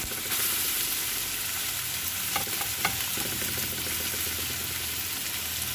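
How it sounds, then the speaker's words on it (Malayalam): Finely chopped ginger fries in hot oil with dried chillies for puli inji, a steady, close sizzle and crackle with a few stirring clicks and scrapes, no voices. "മുളക് മൂത്തിട്ടുണ്ട്, അതിലോട്ട് ഇഞ്ചി ഇട്ട് കൊടുക്കുക കേട്ടോ."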